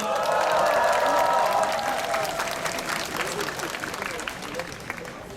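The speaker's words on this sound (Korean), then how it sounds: "박수 부탁드립니다." An outdoor crowd at a rally in the Acropolis plaza of Seoul National University applauds a speaker, with dense clapping and crowd voices that gradually thin and fade.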